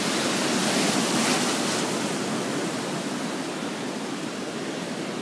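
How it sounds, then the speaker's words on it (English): Strong ocean waves roll in and splash on Harris Beach, a loud continuous roaring wash of surf swelling slightly early on, with no voices. "the waves are pretty strong coming in here today"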